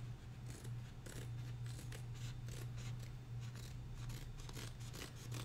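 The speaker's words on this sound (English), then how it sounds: "what is up with these scissors?" Embroidery scissors snip and clatter in a quick, irregular series of close, crisp cuts and metallic handling noises over a low steady hum, with no talking.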